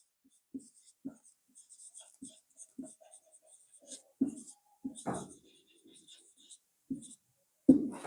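Chalk or marker tapping and scratching on a board in a Class 10 maths lesson, scattered short knocks and soft strokes at an uneven pace, with a teacher's occasional murmurs and a louder thump at the end.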